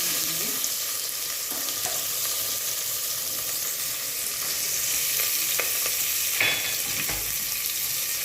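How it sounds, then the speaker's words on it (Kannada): Onion frying in hot oil with curry leaves and mustard seeds over a small flame, a steady close sizzle with scattered crackles and a few louder pops, continuous and without speech. "ಸ್ಮಾಲ್ ಫ್ಲೇಮಲ್ಲಿ ಕರಿಬೇವು, ಸಾಸಿವೆ, ಎಣ್ಣೆ ಎಲ್ಲ ಕಾದ್ಮೇಲೆ ಫಸ್ಟು ಆನಿಯನ್ ಹಾಕ್ತೀನಿ"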